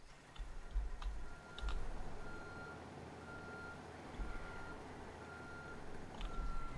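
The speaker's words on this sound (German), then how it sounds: "Wer fährt denn da ein LKW?" Truck reversing beeps in the video game Ghost Recon Wildlands: faint, evenly spaced electronic tones repeat several times over a low engine rumble, with occasional clicks and knocks mixed in.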